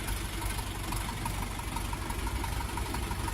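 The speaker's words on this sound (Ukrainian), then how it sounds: "Ось кемовський двигун, такий тракторець." A Dongfeng 404 G2 tractor's diesel engine idles steadily nearby with a low, even rumble and rapid knocking pulse throughout, no speech.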